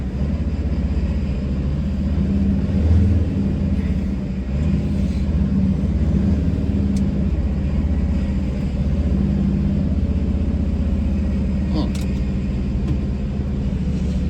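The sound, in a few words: Sprinter van engine running at 2,000 revs in traffic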